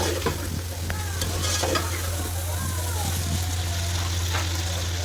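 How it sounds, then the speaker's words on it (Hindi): Spices frying and being stirred for Kabuli pulao, a steady broadband sizzle with scraping stir strokes, close and continuous, with faint background voices now and then. "अब इन सारी चीज़ों को अच्छी तरह से भून लेते हैं।"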